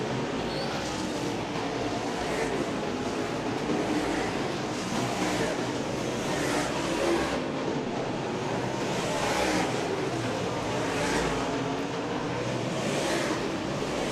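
Dirt track race car running hot laps at a dirt oval, a continuous broad roar of engine and wind noise sustained throughout, with a faint voice beneath.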